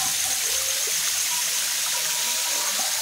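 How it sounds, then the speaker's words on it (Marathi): The Mandeshi waterfall at Shukracharya in low flow after weak rains gives a constant, even rushing hiss of falling water, steady throughout with no voices. "शुक्राचार्य येथील माणदेशी धबधबा"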